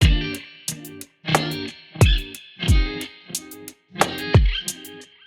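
Electric guitar played through Logic Pro's clean echoes preset: short plucked chords in a loose rhythm, each ringing out with a repeating echo tail between strums, loud and close with no talking.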